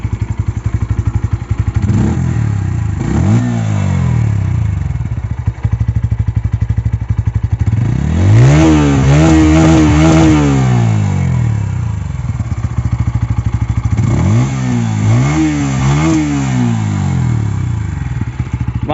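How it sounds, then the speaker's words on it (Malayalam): A 2024 Bajaj N150 motorcycle idles with a bassy exhaust note and is revved up sharply about three times, the engine pitch rising and falling each time, heard up close. "എന്നാൽ പിന്നെ നമുക്കിതിൻ്റെ ഒരു എക്സോസ്റ്റ് നോട്ട് സൗണ്ടും കൂടെ നമുക്കൊന്ന് കേട്ടിട്ട്"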